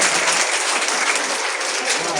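Dense applause from a crowd at an Anganwadi children's gathering fills the whole moment with steady, loud clapping.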